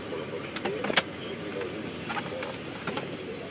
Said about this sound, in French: Je vais vous ouvrir le toit ouvrant maintenant pour que vous puissiez constater l'état de la voiture une fois le toit ouvrant ouvert.